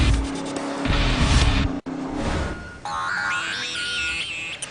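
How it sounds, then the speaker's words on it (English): A Factory Five kit car built in a home garage races on a track, its engine roaring loudly with brief tire squeal, then climbing through higher revving pitches as it pulls ahead near the end of a race, with no talk. "He pulls into the lead with just 2 laps to go, all in a Factory 5 kit car built in his own garage."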